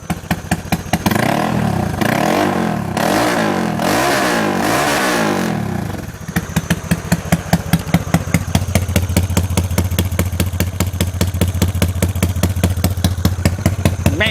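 A Honda Wave 125i engine in a Dream Super Cub with a short-stroke setup and open Excycle exhaust: loud close revving that swells and drops repeatedly, then settles into a rapid, rough, popping idle.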